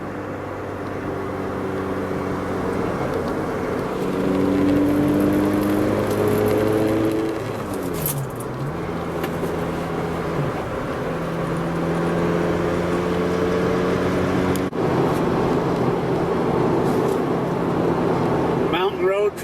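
A 2000 Toyota Celica GTS drives along a mountain road, its engine droning steadily with rising and falling pitch as it shifts gears, with road noise loud and continuous throughout.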